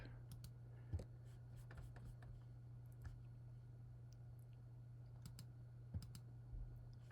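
A computer mouse and keyboard click sparsely and softly over a steady electrical hum, with scattered light taps and a few louder clicks spread irregularly.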